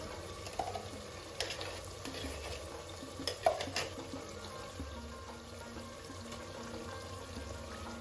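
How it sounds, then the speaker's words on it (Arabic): Cuttlefish frying in a pot with onion and garlic for Tunisian couscous: a steady, fairly close sizzle with occasional scraping and clattering stirs, no voices. "توا باش نزيد طريف الشوباي خليهم يتقلوا بالكدا"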